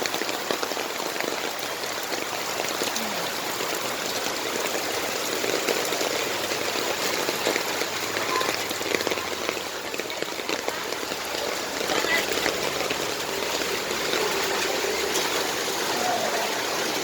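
Continuous rushing, splashing flood water on a road with a dense hiss, steady and unbroken throughout, like water flowing or rain pouring.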